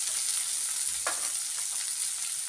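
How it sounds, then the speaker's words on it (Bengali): Soaked rice fries in a pan for muri ghonto, giving a steady, close, bright sizzle with a brief stirring scrape in the middle. "চালটা ভিজিয়ে এরকম করে ভাজবে"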